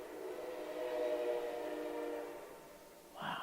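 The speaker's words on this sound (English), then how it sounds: "There's the train." A train passes at a distance, giving a faint, sustained horn-like drone that swells and then fades over a few seconds, followed by a brief louder knock at the end.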